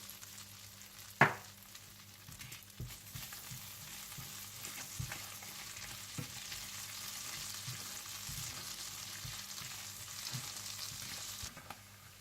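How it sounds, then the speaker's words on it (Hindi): Whole cumin, peppercorns and chopped garlic fry in butter for a dal makhani tempering with a soft, continuous sizzle, and a sharp clink sounds early on. "आप इसमें साबुत जीरा, गोल मिर्चें और कटा हुआ लहसुन डालकर फ्राई कर लें।"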